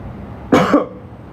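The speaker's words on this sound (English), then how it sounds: "I had a cough." A single person gives one short, sharp cough, close to the mic and loud against a quiet room, with a brief second push of breath right after.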